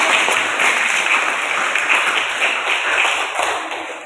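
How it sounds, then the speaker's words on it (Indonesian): Classroom students clap for a classmate after a short-story lesson, a loud, close, continuous burst of many hands lasting a few seconds before tapering slightly. "Tepuk tangan buat teman kalian"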